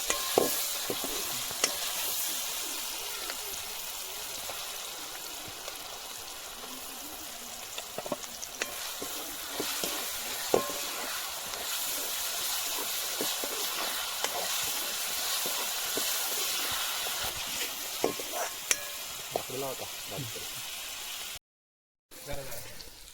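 Ground onion, coconut and ginger-garlic paste frying in a kadhai at an outdoor forest cooking spot, a steady close sizzle and hiss with scattered stirring scrapes and clicks throughout, and a brief dropout near the end.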